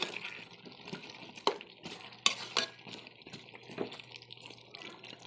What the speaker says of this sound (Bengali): এই আলুগুলো ঢেলে দেব এই লেড়ে ছেড়ে দেব